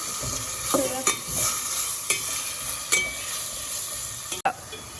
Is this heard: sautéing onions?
yes